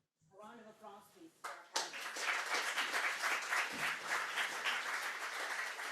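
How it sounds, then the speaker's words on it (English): An audience at a global health side event breaks into a full round of applause that swells after a brief spoken moment and continues evenly and close. "A round of applause, please."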